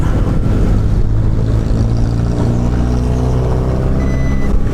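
Motor vehicles passing on the road, heard from a motorcycle riding behind a Jeep: a loud, steady low engine and road roar fills the whole stretch without letup, with a faint electronic tone above it.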